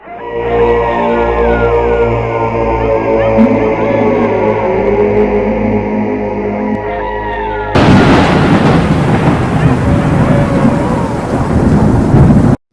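A loud, dense downpour of heavy rain with rumbling thunder starts abruptly after a stretch of sustained tones.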